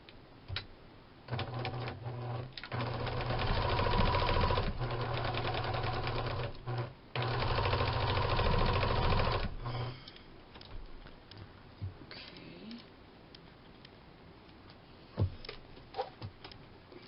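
A sewing machine stitches the seams of a fabric pouch in two close, steady whirring runs with brief pauses between, then falls quiet to faint handling clicks and rustles.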